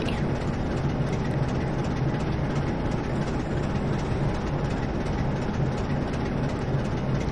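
A Class 47 diesel locomotive in Train Simulator 2014 rolls into Manningtree station, a steady low rumble of engine and rail noise with faint wheel clatter, continuous and moderately quiet.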